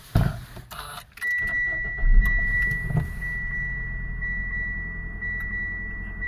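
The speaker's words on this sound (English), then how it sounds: "Let's start the car." A cold 2014 Mitsubishi Outlander with freshly changed spark plugs cranks briefly and catches, then settles into a steady close idle with a persistent high whine over the low engine rumble.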